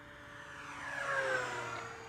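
An E-flite P-51D Mustang 1.5m RC airplane makes a low pass, its engine whine rising and falling in pitch as it swells and fades over about two seconds, with no talk.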